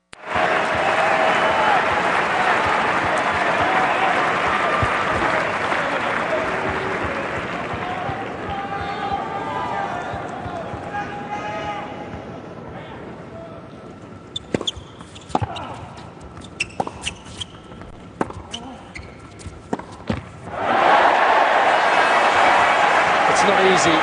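A tennis crowd at the 2008 Paris Masters quarterfinal between Tsonga and Roddick roars and applauds loudly, fades while scattered ball hits and claps sound under a commentator, then bursts into another loud roar near the end.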